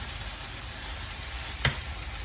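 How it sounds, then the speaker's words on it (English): Leftovers frying in a pan give a steady soft sizzle, with one brief sharp scrape of stirring near the end. "I'm going to give it a nice good stir just to mix it up"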